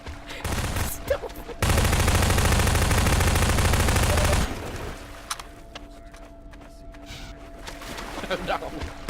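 Burst of rapid automatic gunfire in the video game Half-Life 2, a loud dense rattle lasting about three seconds, with players talking before and after it.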